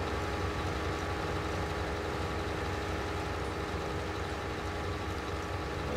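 Tractor engine idling in the Farm Simulator video game, a steady, even drone with a low rumble that holds at constant loudness throughout, with no voices.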